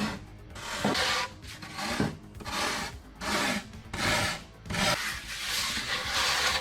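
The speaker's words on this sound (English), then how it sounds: "I take my cheese grater here, and I find that it's easier to pull back" Rough rasping strokes of a cheese grater shaving a carved foam tombstone into a rock-like shape, repeated in a steady back-and-forth rhythm of about a dozen close, fairly loud pulls with no talking.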